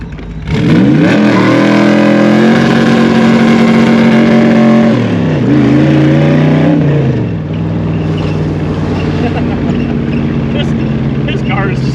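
A Shelby Cobra sports car engine revs loudly up close, climbing and falling in pitch as it is driven hard, then settling into a steady, slightly lower drone, with voices talking over the engine.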